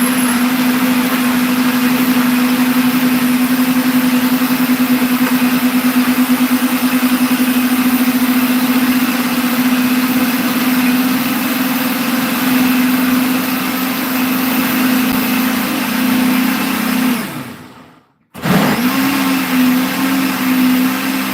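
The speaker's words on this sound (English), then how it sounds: "We are just blending. So this is my blender right here." Kitchen blender whirring steadily as it purees homemade baby food, a loud continuous motor drone that runs for a long stretch, then cuts out briefly and restarts.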